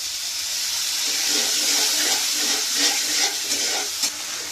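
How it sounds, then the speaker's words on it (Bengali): Water poured into spices frying in a pan for a Bangladeshi egg bhuna sets off a steady, loud sizzle and hiss with faint stirring, and no one speaks. "মশলাটা কষানোর জন্য আমি এখানে একটু পানি ব্যবহার করতেছি।"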